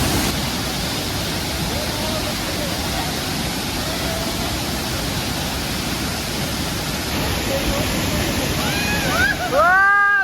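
Steady, loud roar of a waterfall in the hills around the empty mining town of Kudremukh, a dense broadband rush that fills the whole stretch without pause, with a few brief faint chirps near the end.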